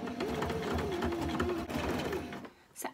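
A sewing machine runs a narrow zigzag stitch for an invisible hem, whirring steadily and close up for about two and a half seconds before it stops, followed by a short rustle.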